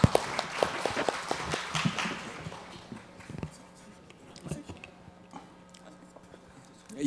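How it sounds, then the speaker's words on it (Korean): Audience applause at a Korean economic policy seminar as panel discussants are welcomed to the stage, a loud burst of clapping in the first two seconds that thins out into scattered, quieter claps and room noise. "예, 박수로, 큰 박수로 마주해 주시기 바랍니다."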